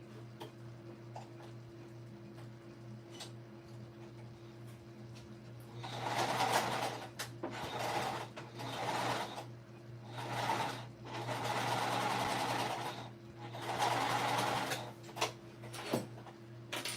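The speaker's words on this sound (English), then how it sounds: "I'm just going to sew another line of stitching in the seam allowance, just so my vinyl doesn't pull" A sewing machine stitches a line in the seam allowance of a vinyl bag, starting after a quiet hum and running in several short rhythmic bursts with brief pauses between.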